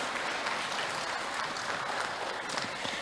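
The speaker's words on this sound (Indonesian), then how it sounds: "Boleh saya minta tepuk tangannya sekali lagi untuk Bapak Menteri?" An audience at a national aquaculture event with the minister of marine affairs and fisheries applauds, a dense, sustained wash of clapping from a sizable crowd that stays steady throughout.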